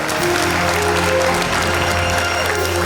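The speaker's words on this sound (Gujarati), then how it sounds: "જોરદાર તાળી" Loud, dense applause from a theatre audience fills the whole stretch, steady and unbroken, with a faint hum beneath.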